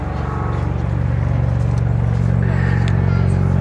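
An MV-22 Osprey tiltrotor at an airshow, nacelles rotated and gear down, transitioning to land, gives a loud, steady low droning roar throughout, with a voice speaking over it.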